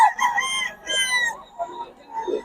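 Wet chickens clucking and crowing close by, several overlapping calls in a busy farmyard on a rainy day.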